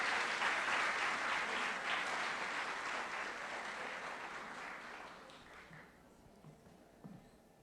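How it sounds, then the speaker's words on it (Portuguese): Audience applause after a speaker is introduced at a 2018 law-week lecture, a dense sustained wash of clapping that gradually thins and fades toward the end, with a few isolated claps lingering. "uma salva de palmas para ela."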